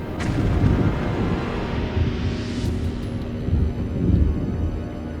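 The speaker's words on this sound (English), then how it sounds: "This first clip, recorded in 1945, is actually a test explosion caused by the US military" A deep, sustained rumbling roar from a distant 100-ton US military test explosion in 1945 rolls on for several seconds, dense and low, with no voices.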